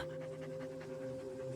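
A dog pants in quick, steady breaths close by inside a camper van, soft and rhythmic, with no talking over it.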